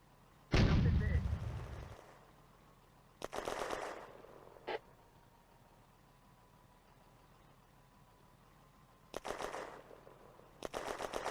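A war video game battle on the Eastern Front with German panzers, where one loud tank cannon blast opens, followed by short bursts of gunfire and distant shots over a low engine rumble, with brief voices.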